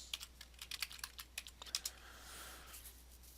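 Quick, light keystrokes on a computer keyboard while entering text into a web login page, an irregular burst of clicks followed by a brief pause and a few softer taps, close and quiet.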